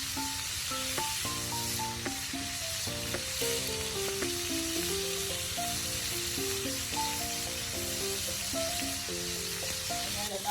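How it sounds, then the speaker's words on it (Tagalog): Chicken pieces searing in a pan for chicken mechado, a steady sizzle running underneath background music with no talking. "Hayaan lang natin ito mag-sear ng about 3 minutes para lalong manuot ang lasa ng ating chicken."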